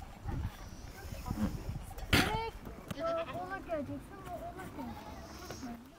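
Goats bleat several times in wavering cries at moderate distance by a riverside, with a sharp noise burst and background chatter and shuffling around them.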